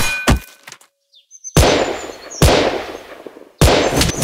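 Gunshots in the Gun Sprint video game: a sharp early crack, then three loud, punchy blasts spaced about a second apart, each trailing into a ringing decay.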